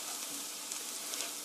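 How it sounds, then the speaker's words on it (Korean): Flour stir-fried in a pan for a cream-sauce roux gives a steady, soft sizzle with faint crackles, close and continuous with no talking. "밀가루 소복하게 1 테이블스푼 넣어주시고요. 같이 볶아주세요."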